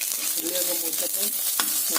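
Onions frying with curry leaves in a pan for a pumpkin erissery curry, giving a steady, close, hissing sizzle with faint stirring scrapes throughout.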